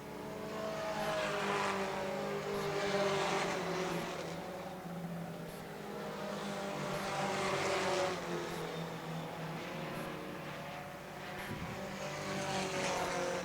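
Four-cylinder pro race cars circle a short oval track, engine roar swelling and fading as the pack passes, heard from a distance at moderate volume, steady through the whole stretch.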